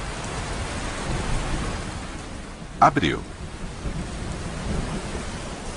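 Heavy tropical rain pours down steadily as a loud hiss, broken midway by a sharp, close crack of thunder with a brief rumbling tail, while a voice speaks faintly.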